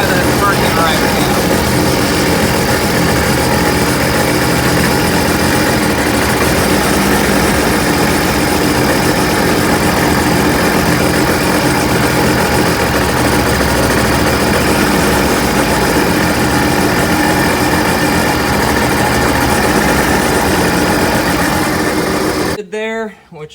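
The engine of a 2011 Seadoo GTX 215 supercharged 4-tec jet ski, running after injector cleaning and testing, holds a loud, steady idle with mechanical vibration and then cuts off abruptly at the end.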